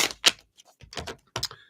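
Several quick riffling bursts of cards being shuffled, with short pauses between, close and fairly crisp, during a live reading.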